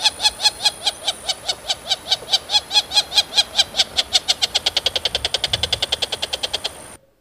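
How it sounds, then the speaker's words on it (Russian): Female wattled jacana singing a long series of rapid, evenly spaced sharp calls that speed up and grow denser toward the end, loud and close, with no talk. "Вот, например, как поет птичка якана."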